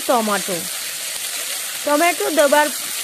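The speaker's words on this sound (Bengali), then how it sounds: "সমস্ত কিছু ভালোভাবে মিশিয়ে নিয়ে আদা রসুনের কাঁচা গন্ধ যাওয়া অবধি ভেজে নেব" Ginger-garlic paste fries in a pan for a fish-head cabbage ghonto, a soft continuous sizzle sitting under short bursts of tonal, voice-like sounds.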